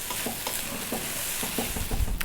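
Vegetable fried rice with coriander being stirred in a sizzling pan, with a steady fry hiss and several scraping strokes of the spoon close by.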